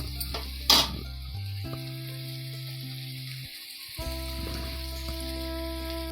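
Onions frying in ghee in a pan for dhaba-style paneer curry, a steady close sizzle with a brief louder clatter early on and a constant electrical hum running underneath.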